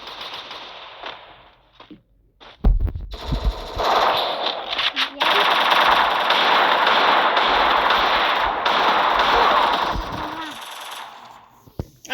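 Pistol fire in a shooting video game, heard as a long dense burst of rapid gunshots lasting several seconds, loud and close, while a player talks excitedly over it.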